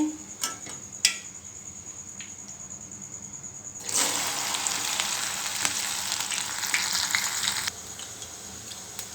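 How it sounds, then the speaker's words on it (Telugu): Okra (bhindi) pieces fry in a pan, with light ticks and clicks at first, then a loud, dense sizzle swelling for several seconds before dropping back to quieter crackling. "ఇలా కొంచెం కొంచెం వేయించుకోవాలండి బెండకాయ ముక్కల్ని వేయించుకొని పక్కకు పెట్టేసుకోవాలి"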